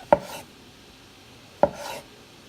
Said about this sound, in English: So I'm just gonna do a few more crossways like this